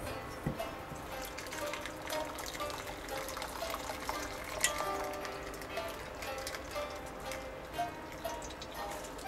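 Steady watery splashing and trickling of purple shiso-leaf water draining out of a pot, continuous and fairly close, with faint clinks.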